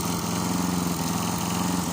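A restored Tecumseh lawn mower engine runs steadily at close range, a continuous buzzing drone with a fast, even firing pulse. No voices are heard over it.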